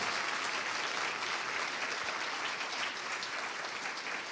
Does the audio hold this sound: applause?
yes